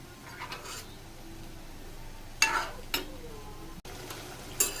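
Egg fenugreek curry stirred in a pan, a steady low sizzle broken by a few sharp scraping bursts as the spoon works through it, close and with no talk.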